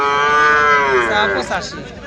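A young Friesian bull calf at a village cattle market lets out one loud, drawn-out moo that is close and clear, fading into a rough breathy tail.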